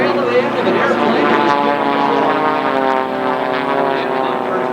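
A propeller racing airplane roars past at the Reno Air Races, a loud steady droning engine tone that stays strong throughout, with a commentator talking over it.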